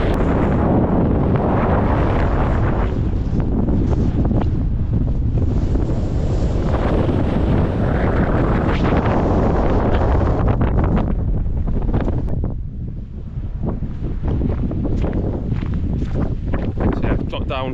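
Strong wind roars across the exposed summit of Brown Clee Hill in Shropshire, buffeting the microphone in a loud, continuous rush that barely eases for a moment partway through.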